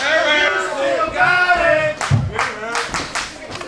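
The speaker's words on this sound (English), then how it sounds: "No, keep cheering for him." A wrestling crowd at a CWF Mid-Atlantic show claps and cheers for the longest-reigning heavyweight champion. An announcer talks over the first half before dense, rhythmic clapping swells with crowd noise.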